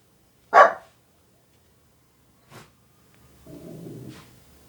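A dog gives one sharp bark nearby, then a fainter second bark a couple of seconds later, followed by a low rumbling noise, in an otherwise quiet room with no talking.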